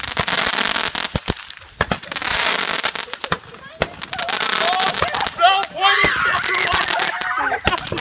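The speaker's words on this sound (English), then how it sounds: "And the fireworks are cool too, I guess." Fourth of July fireworks crackle and bang in dense, repeated bursts, sharp reports layered over a continuous fizzing crackle, with a crowd's voices and whistles mixed in and no words clearly spoken.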